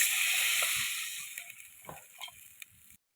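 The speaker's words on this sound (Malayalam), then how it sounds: "വെള്ളം ഒഴിക്കാം" Water poured into a pan of frying chilli and turmeric masala for a fish curry, a loud steady sizzling hiss at the start that fades and tapers into faint bubbling and clinks before cutting off.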